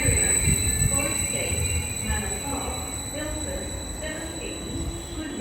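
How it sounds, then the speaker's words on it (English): Greater Anglia Class 745 electric unit 745109 pulls out of Stratford station on the Great Eastern Main Line, bound for Norwich. A steady, close rumble of wheels on rails runs throughout with faint high whines, while a station announcement plays over it. "Heading off now is the 1638 Greater Anglia service to Norwich from London Liverpool Street, 745109."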